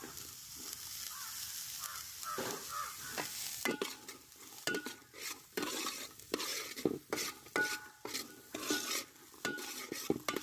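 Green chillies sizzle in hot oil with onions for egg bhurji, stirred with a spoon against the pan in frequent scraping strokes; the frying hiss runs steadily underneath, and the clinks and stirs grow louder and more rhythmic in the second half.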